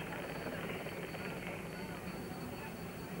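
A television camera helicopter hovers over a cycling road race, its rotor and engine making a steady, dense broadband roar that continues without a break and partly covers distant voices.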